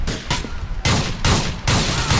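Shotgun fire in GTA IV, heavy bursty blasts in a fast sequence of about four loud, booming shots with noisy tails overlapping, close and continuous with no clear voices.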